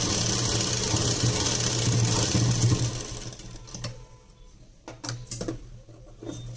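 A sewing machine stitches a blouse lining in a steady mechanical whir for about three seconds, then stops, followed by a few quieter clicks and handling sounds, close and without talking.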